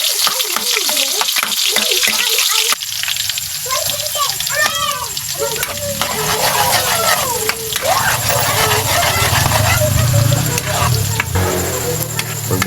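Garlic frying in a pan for chicken pastel, a steady close sizzle and crackle of hot oil with occasional stirring, while voices, including a child's, talk over it.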